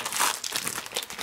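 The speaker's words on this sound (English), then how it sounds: "I'm going to take some plastic off too." Plastic packaging being pulled off a toy, heard as a close, loud crinkling and crumpling that continues throughout the short clip.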